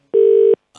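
A single telephone dialing tone sounds as one clean, loud steady beep of about half a second, alone on a phone line during a prank call, followed by a faint trace of something brief.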